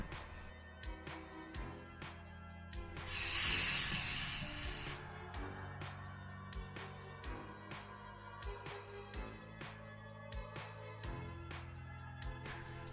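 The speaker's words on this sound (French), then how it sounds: "Le vif d'or est désormais sec, donc nous allons le peindre à la bombe." A can of spray paint hisses in one short, close burst of under two seconds over a cardboard-covered table as a Golden Snitch Christmas ornament is painted, set against faint rhythmic ticking.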